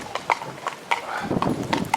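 Hooves of a Fell mare clip-clop on a road as she side-steps in a tight turn, a handful of sharp, close strikes in uneven rhythm with faint low background sound.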